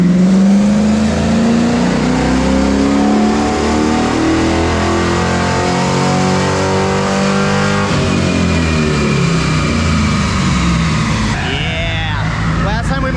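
An LS-swapped Chevrolet Colorado truck making a full power pull on a dyno: a loud, close engine climbing steadily in pitch under sustained load for several seconds, then a roar and a shift in tone near the end, with voices mixed in.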